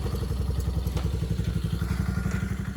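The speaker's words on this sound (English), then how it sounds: "We kept it on the floor jack to test run it at idle speed right now." A Tao Motors GK110 mini kids go kart, raised on a floor jack, idles with a small engine's steady, rapid, thumping putter heard close up and alone.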